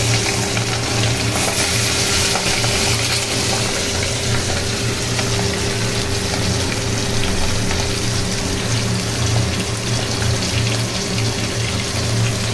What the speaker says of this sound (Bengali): এখন ভাজছি এটাকে, ট্যাংরা মাছটাকে